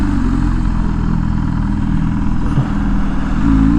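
An MV Agusta Rush naked motorcycle engine idles and burbles loudly up close, a steady throbbing rumble with a slight rev rise toward the end, no talking over it.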